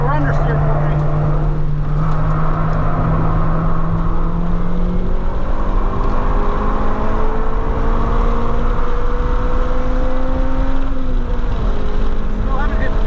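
A Honda EK9 Civic Type-R on a track day, its engine revving high toward 8500 rpm with a loud, steady in-car drone that climbs slowly in pitch, continuous and close, while a driver talks over it.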